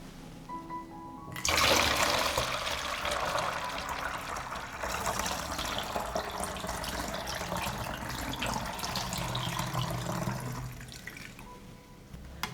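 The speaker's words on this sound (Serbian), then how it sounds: "Dodajem 1 litar vode." Water poured into a bottle to dilute homemade nettle fertiliser, a sudden loud gush that settles into a steady close rushing pour for about ten seconds, then tapers off.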